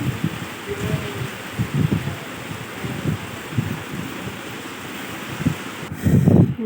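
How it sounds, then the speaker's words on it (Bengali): Heavy rain falls steadily as a dense, broadband wash of noise, with bursts of louder splashing and drumming, growing strongest near the end. "এই যে বৃষ্টি তো দেখুন জল ফল জমে গেছে একদম"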